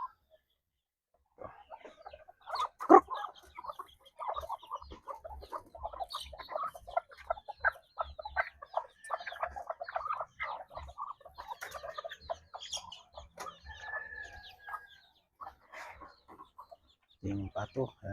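Livorno and bantam chickens, one bantam suffering a cold, cluck and chatter at close range in a busy, steady stream of short calls, with a person talking at times.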